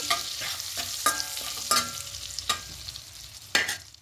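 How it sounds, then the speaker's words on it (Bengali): A dried red chili frying lightly in hot oil alongside a torn bay leaf, a close crackling sizzle broken by a few sharp spoon-stirring clatters, with no talking. "আর দেবো একটা শুকনো লঙ্কা। একটু হালকা করে ভেজে নেব।"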